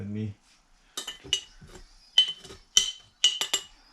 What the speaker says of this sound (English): Now I'll take a spoon.